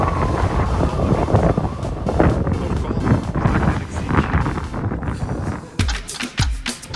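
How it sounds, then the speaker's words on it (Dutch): Strong wind of about 100 km/h buffets the microphone with a steady roaring rumble throughout, with a few sharper gusts and thumps near the end. "Het is 100 km per uur wind."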